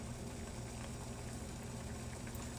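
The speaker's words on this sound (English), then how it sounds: "It's boiling real low." Faint, low bubbling of water simmering in a pot before shrimp are added, a soft steady churn with no voices.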